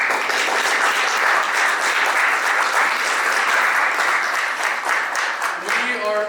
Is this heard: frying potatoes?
no